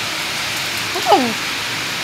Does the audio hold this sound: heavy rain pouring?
yes